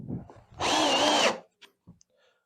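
A Hart HPID01VN 20V cordless drill on speed 2 whirs for under a second driving a screw into wood, close and loud, then stops, followed by a few faint clicks and handling noises.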